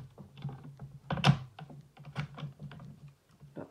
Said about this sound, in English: I'm going to just cut it with a paper trimmer